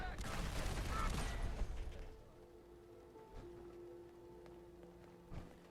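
Heavy chain gun fire in Fallout 4 during an arena fight, a dense rapid burst for about two seconds that then cuts off, leaving lower clanks and game sounds.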